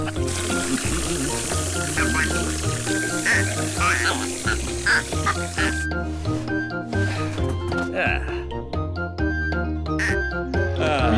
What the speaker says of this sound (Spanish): Pero si son patos normales.